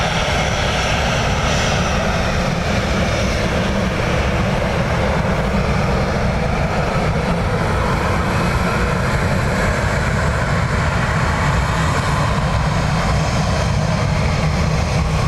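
Aircraft at Dublin Airport produce a loud, steady engine roar that fills the whole stretch without a break, with no voices over it.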